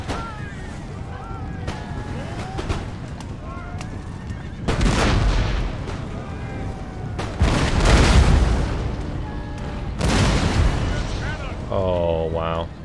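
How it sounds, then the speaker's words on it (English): Musket volleys in Empire: Total War as Great Britain boom in several heavy, rolling bursts amid a chaotic battlefield, with horses whinnying near the end and a voice talking over the din. "That was some shots right there."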